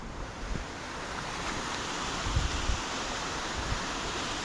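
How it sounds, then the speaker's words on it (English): A small stream runs down a hillside near a waterfall, giving a broad, steady rush of water with a faint wind-like hiss, close and continuous, with no one talking. "across this little stream that's running down there."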